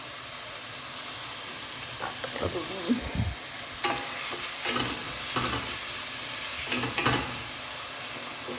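Onions fry in oil with salt in a pan, giving a steady soft sizzle with scattered scraping and clattering stirring noises throughout.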